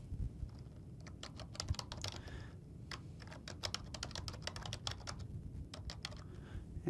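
Steady, brisk typing on a computer keyboard as a user email address is entered into enterprise deployment software, with dense clusters of key clicks running the whole time and no talking.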